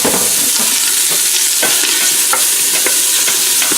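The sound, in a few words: chunked white onion sizzling in a hot pan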